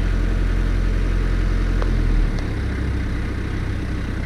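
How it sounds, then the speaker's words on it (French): An articulated-arm lift's engine runs with a steady, loud low rumble that shifts in tone partway through as the motor is revved, with no voices over it. "c'est accélérer le moteur."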